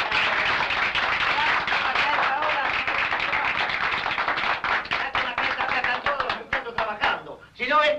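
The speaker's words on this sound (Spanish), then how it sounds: "¡Aplausos para el compañero Barrera!" Applause for comrade Barrera at a political gathering: a loud, dense burst of clapping from a crowd, steady for several seconds and then thinning into scattered claps.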